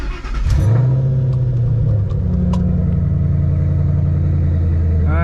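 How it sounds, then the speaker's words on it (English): A Ford Mustang GT engine cranks and catches, revs up briefly, then settles into a steady, close idle. "so now I'm just gonna start the car"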